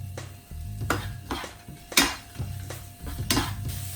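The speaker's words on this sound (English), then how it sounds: "I'll basically just stir these veggies to get the heat throughout" A utensil scrapes and clanks against a hot pan as frozen vegetables are stirred over high heat, with several close, distinct knocks and faint sizzling between them.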